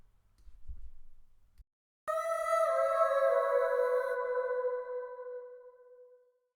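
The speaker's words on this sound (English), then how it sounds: "I'll put the size up to just make it a bigger reverb" A music track played back through a reverb effect plugin with the room size raised and wet level turned up, a sudden loud sustained tonal chord with a long smooth decaying tail after a brief low thump.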